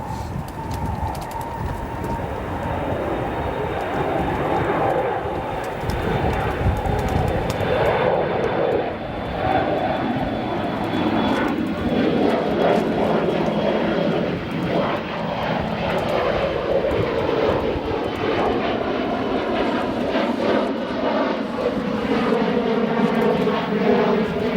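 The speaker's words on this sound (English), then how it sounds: "we'll go to a departing Embraer 175" An Embraer 175 airliner departs O'Hare Airport in a loud, sustained jet-engine roar that swells and then slowly shifts in pitch as it climbs away, with birds chirping faintly nearby.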